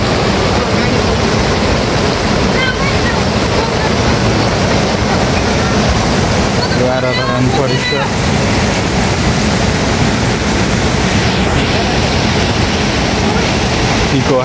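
The flooded Sardu river rushes past in a loud, unbroken roar of churning water, with brief faint voices and some wind buffeting the microphone.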